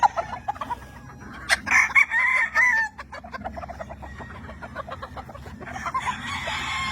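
Gamefowl roosters on a large farm in the Philippines crow loudly and cluck nearby, with one prominent crow followed by scattered clucks and more distant crowing.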